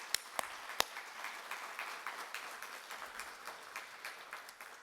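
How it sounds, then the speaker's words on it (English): Audience applause at a tribute event, a light scattered patter of clapping heard from a distance, with a few sharp individual claps near the start. "Let's give everyone a round of applause"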